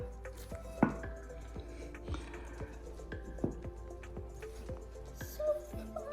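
A hot cake is flipped out of its pan onto a cutting board in a home kitchen, heard as a series of light metallic clanks and knocks from the pan, fairly quiet.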